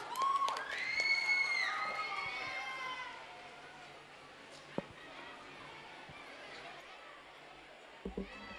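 Children and an audience shout and cheer loudly at a school annual day at Providence International School, with excited high-pitched whoops fading into a lower crowd murmur and a few scattered knocks.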